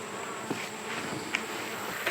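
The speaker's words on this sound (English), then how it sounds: "we're going to just feed this hive, Chafin" Honeybees buzz around an open beehive during feeding, a steady close swarm drone with individual bees zipping past near the listener.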